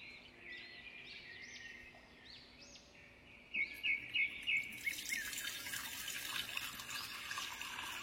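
Water splashes and trickles as it is poured into milk, faint at first and then a louder gurgling stream, with birds chirping in the background.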